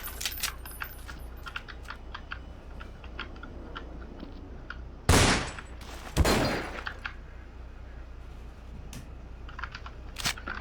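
Gunfire in Counter-Strike: Source: two loud, sharp broadband bursts about a second apart midway through, over a steady background of clicking keys and soft game ambience.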